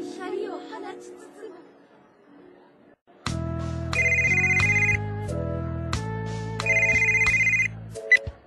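In a drama CD, a mobile phone rings with an incoming call: after a few quiet seconds of faint voice, a loud melodic ringtone plays its repeating tune for about five seconds before cutting off.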